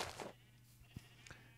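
Sheep bleat on a farm in the Minecraft video game, a few short, faint calls over a low steady hum.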